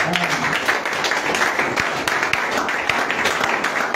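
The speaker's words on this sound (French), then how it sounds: "nous acclamons pour sa gloire" Church congregation applauding and cheering in praise, a steady, dense wash of clapping filling the room throughout, with scattered voices mixed in.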